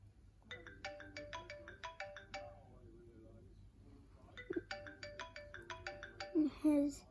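The default iPhone ringtone from iOS 6 plays as two bursts of a bright, repeating marimba-like melody separated by a short pause, with faint voices near the end.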